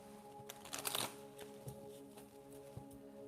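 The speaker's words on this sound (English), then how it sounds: "Maybe shuffle one more again." Tarot cards are shuffled by hand in a short riffling burst, followed by faint soft slides and taps of the deck, close and quiet over a low background hum.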